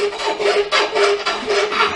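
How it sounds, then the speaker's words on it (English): A metal file rasping in steady back-and-forth strokes along the edge of a wrench being made into a knife, loud and close with a gritty scraping texture and no talk. "Now I'm just going to take a file over this and try to sharpen the edge up"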